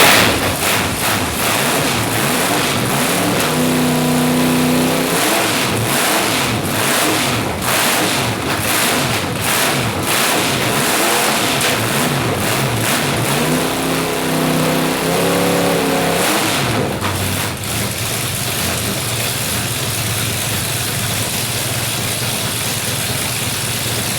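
A rat rod's freshly built engine with open headers roars loud and close, revving in repeated bursts and dropping to a rough idle between them, with wind buffeting the microphone.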